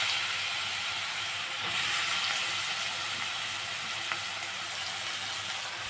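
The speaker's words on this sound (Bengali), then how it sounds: "তেলের উপরে দিয়ে দিচ্ছি সাদা জিরা ফোড়ন। এখন লাউগুলো আমি ছেড়ে দিচ্ছি।" Bottle gourd dropped into hot oil with cumin seeds, giving a constant bright hissing sizzle that holds steady throughout, with a faint stir or clink near the end.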